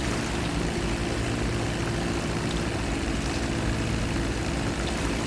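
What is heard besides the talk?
Dodo seaplane propeller engine in GTA 5 Online video game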